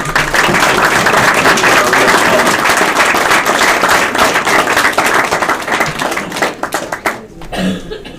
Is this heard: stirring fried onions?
no